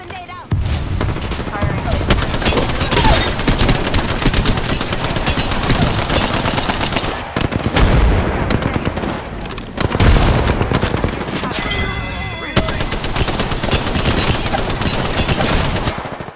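Loud, near Apex Legends gunfire keeps up dense automatic bursts with booming hits for most of the stretch, broken by a few brief lulls, and a player's voice can be heard faintly under the shooting.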